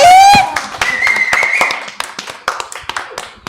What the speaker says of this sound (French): Applaudissements pour Betty.